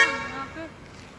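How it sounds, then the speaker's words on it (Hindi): A short Hyundai Creta horn toot sounds over Kolkata road noise, fading quickly into a low traffic rumble. "और ये क्रेटा वाली हॉर्न ना मेरे को बहुत बहुत तंग करता है यार।"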